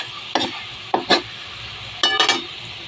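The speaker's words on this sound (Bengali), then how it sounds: "এই ঝুরঝুরের মতো করতে গেলে একটু এরকম করে ভাজতে হবে।" Leafy greens stir-fried in a pan, heard as three short bursts of spatula scraping and light sizzle spread over a few seconds, with no talking.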